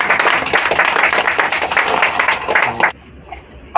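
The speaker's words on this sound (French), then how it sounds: "on peut les applaudir, messieurs dames" Lively audience clapping at a stage hypnosis show, dense and close for almost three seconds before cutting off abruptly into near silence.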